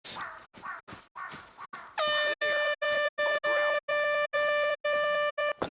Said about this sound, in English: Can you hear that? It's like a horn or something.